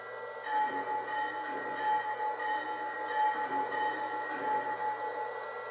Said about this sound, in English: Next, here is the bell.